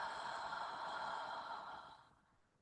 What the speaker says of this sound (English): when we release, the tongue comes down and we have that lovely breath out